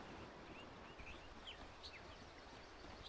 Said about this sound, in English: I hear the birds chirping.